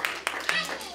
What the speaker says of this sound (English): Round of applause, all you did.